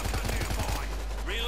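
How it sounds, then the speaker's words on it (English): Sentry guns firing in the zombie shooter World War Z, a rapid rhythmic chatter of automatic shots at close range that fades into a dense mix of game noise within a second or so. "So the sentry guns don't all just burn out."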